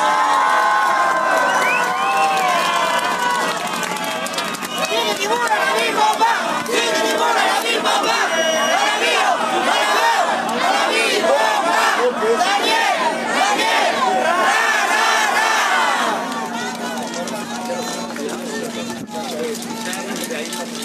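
Large protest crowd at a rally against electricity rate hikes in Mexico State greets a union leader with loud cheering, shouting and chanting voices, dense and sustained before it settles into a quieter hum.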